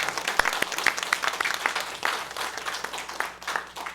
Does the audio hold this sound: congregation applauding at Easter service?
yes